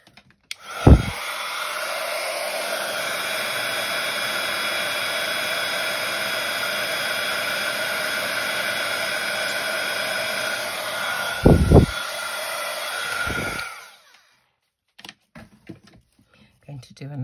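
Heat embossing tool blowing a steady, loud, close whir for about thirteen seconds while it melts embossing powder on a small craft piece, then shutting off, followed by a few light clicks and handling sounds.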